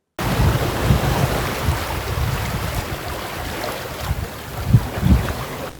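Sea waves washing ashore at Kakkathoppu beach, Eravipuram, a continuous surf roar mixed with wind buffeting the microphone and a few heavier thumps near the end.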